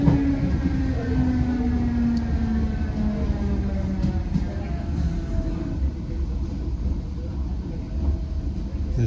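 Onboard an Irish Rail Class 8100 electric multiple unit between Greystones and Dublin Connolly, a steady low rumble of wheels and motors fills the cabin while a falling electric whine sweeps down as the train slows.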